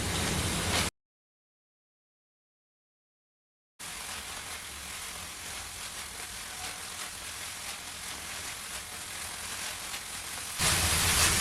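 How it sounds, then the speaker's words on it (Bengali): A sweet milk mixture for a homemade two-ingredient sweet is stirred continuously in a pan until thick and dry, a steady close hiss and sizzle that breaks off into a few seconds of silence before resuming. "এখন কন্টিনিউ নাড়াচাড়া করে মিশ্রণটাকে কিন্তু বেশ ঘন করে শুকনো শুকনো করে নিতে হবে"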